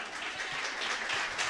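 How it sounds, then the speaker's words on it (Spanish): Congregation applauding in church for a member's birthday, a steady dense patter of many hands clapping at moderate loudness with no speech over it. "Un aplauso para Cilia, cumpleaños."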